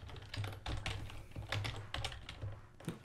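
Rapid typing on a computer keyboard while scripting a Unity raycast in a top-down action adventure game, with steady, close clicking keystrokes in irregular bursts over a low electrical hum.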